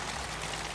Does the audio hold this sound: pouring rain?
yes